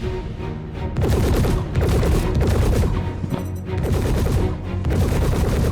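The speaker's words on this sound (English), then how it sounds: "Prepared to engage with our guns." Spaceship guns firing in the space combat game Star Citizen, dense rapid bursts of loud repeated shots rattling almost continuously with brief pauses between volleys.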